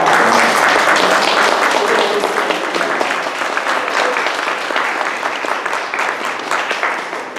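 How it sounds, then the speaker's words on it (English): Sustained applause from a meeting audience honouring standing students at a community meeting, dense and steady clapping that fills the whole stretch at close range, easing slightly toward the end. "So if you would please stand just so we can give you a round of applause."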